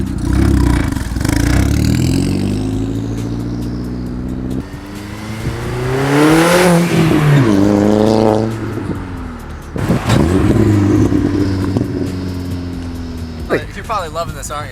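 A car engine revs and roars close by, rising to a loud sustained peak midway through with harmonic whine, then easing off; people talk over and around it.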